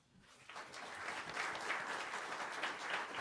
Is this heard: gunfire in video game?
no